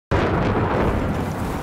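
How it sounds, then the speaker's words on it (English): A loud, close explosion in the Battlefield 4 video game bursts out abruptly and leaves a dense, roaring rumble that fades slightly over under two seconds. "There are a ton of explosions."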